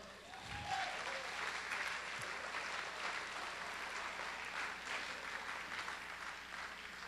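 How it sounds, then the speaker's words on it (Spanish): A church congregation claps together, a sustained, fairly soft and distant patter of many hands that continues evenly without letup. "¿Cuántos le aplauden?"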